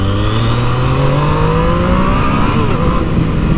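A 2020 Yamaha MT-09 motorcycle engine, throttle set to mode A, revs up loudly and steadily, its pitch climbing smoothly as it accelerates, close and continuous with no talk.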